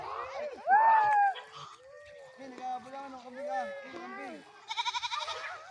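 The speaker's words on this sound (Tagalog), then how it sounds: "Ay, naku, takot yang kambing na yan." A goat bleats loudly up close several times, with a few quieter animal calls and a burst of rapid wavering bleats near the end.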